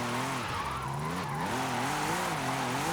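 Audi RS5 drifting in Forza Horizon, its engine droning in wavering pitch as it holds a steady slide, with a sustained tire squeal running throughout at a constant level.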